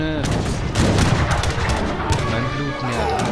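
Cannon fire in a real-time strategy battle in Age of Empires 3, dense booming blasts and gunfire crashing over one another throughout, loud and continuous.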